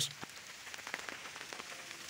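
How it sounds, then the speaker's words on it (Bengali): Rain during Cyclone Remal falls faintly on a surface, scattered drops and soft patters in a quiet, low-level wash with no talking. "যে বৃষ্টি হচ্ছে"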